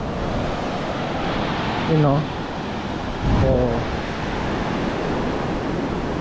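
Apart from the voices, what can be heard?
sea waves at the beach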